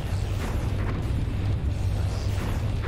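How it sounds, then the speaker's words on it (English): A building exploding in State of War 2, heard as a sustained low rumbling roar that rolls on evenly for several seconds without a sharp initial bang. "Wow, look at that explosion."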